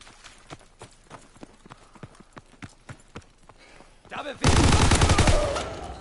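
Rapid, evenly spaced gunshots ring out in Call of Duty WW2, a steady rhythmic volley of sharp cracks that gives way to a sudden, much louder sustained blast and roar near the end.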